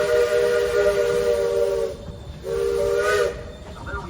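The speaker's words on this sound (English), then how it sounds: "We're now waiting for a warning signal from our locomotive." A steam locomotive whistle on the railroad between Silver Plume and Georgetown, Colorado, sounds two loud warning blasts, a long one followed by a shorter one, with a hissing rush between and after them.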